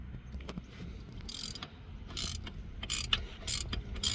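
A hand tool is loosened while fitting a crankshaft pulley on a 2016 Infiniti QX80, giving soft mechanical clicks and ratcheting with a few sharp metallic bursts, close and fairly quiet, no talking.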